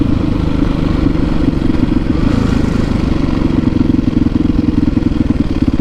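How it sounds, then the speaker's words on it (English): A Yamaha WR450F dirt bike's exhaust with a new baffle roars loud and close at steady speed, a rough, throbbing engine drone with no letup and no voices. "Loud exhaust"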